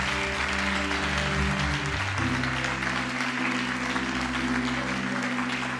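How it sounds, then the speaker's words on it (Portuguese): A church congregation applauding during worship, a steady wash of many hands clapping at moderate volume over sustained organ or keyboard chords. "Vamos aplaudir ao Senhor mais uma vez"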